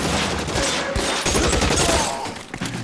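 Dense, continuous gunfire from the L.A. Noire video game on PS4, a loud sustained fusillade with overlapping rapid shots and booming low end, filling the whole stretch with no talk.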